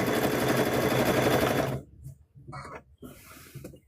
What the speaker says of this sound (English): So we're going to stitch this one down.